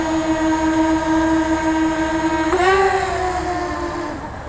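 A DJI Spark drone fitted with Master Airscrew stealth propellers spins up for takeoff: a steady close motor whine with harmonic overtones that rises sharply in pitch and loudness, then settles into a hovering drone.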